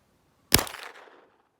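A single sharp rifle shot fired through a blast diverter outdoors in snow, a close loud crack that decays quickly into a short rumbling tail, with silence before it.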